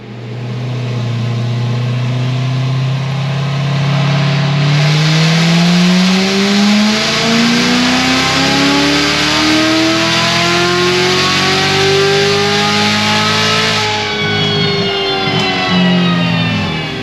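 A Corvette C7 Z06 with a cam and ported supercharger makes a long pull under 14 psi of boost, the loud engine note rising steadily in pitch over many seconds before dropping off sharply near the end.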